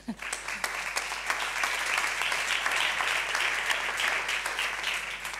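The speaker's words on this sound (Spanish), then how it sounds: "Está aquí Ruth, un aplauso para Ruth también." Sustained applause from an audience, steady and fairly loud, filling the room for several seconds.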